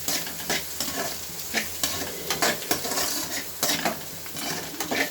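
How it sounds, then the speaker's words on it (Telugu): Onions frying in a pan for egg rice, with a steady close sizzle and frequent scraping stirs of a utensil against the pan, continuous throughout and no talking. "కొంచెం ఫ్రై కానివ్వాలి"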